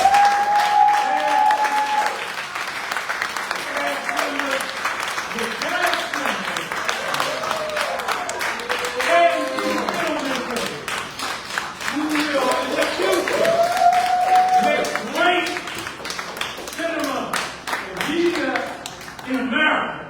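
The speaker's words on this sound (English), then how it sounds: "We want to ask you to give a round of applause." An audience at a film screening and community discussion gives a round of applause, sustained clapping that swells and dips over about twenty seconds, with talking and cheers mixed in along the way.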